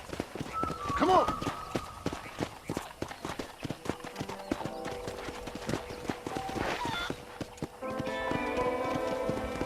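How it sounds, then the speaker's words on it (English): Horse hoofbeats clip-clop at a steady gallop in the Red Dead Redemption video game, with an occasional whinny, heard under game dialogue and ambient background sound. "let's see if you can still ride a horse."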